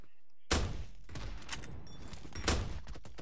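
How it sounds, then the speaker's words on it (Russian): Bursts of gunfire in the mobile shooter PUBG Metro Royale, a sharp volley opening the moment and another loud burst near the end, with scattered shots and game noise in between. "По кому-то стреляет."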